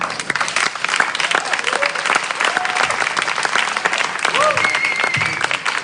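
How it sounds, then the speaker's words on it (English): Dense, enthusiastic crowd applause at a media forum panel opening, continuous and loud throughout, with a few whoops and cheers rising above the clapping. "let's hear a huge round of enthusiastic applause for that."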